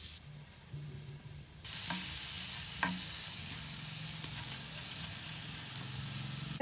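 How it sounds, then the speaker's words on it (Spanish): Chiles, garlic, tomatoes, green tomatoes and chopped onion charring on a hot surface for salsa, giving a soft crackling sizzle that grows louder partway through, with a few faint clicks and no talk. "pondré a tatemar los chiles, los ajos, los jitomates, los tomates verdes y la cebolla cortada en trozos"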